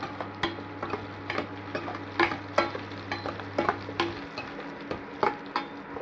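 Onion and about fifteen garlic cloves stirred together as they fry in a pan for a traditional spicy fish curry, with repeated spoon scrapes and taps over a soft, steady sizzle, close by and with no voices.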